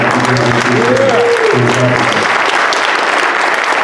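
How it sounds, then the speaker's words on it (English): Loud, steady applause from a crowd at a staff meeting awards presentation fills the whole stretch, with a voice speaking briefly underneath at the start. "If we can get a big round of applause."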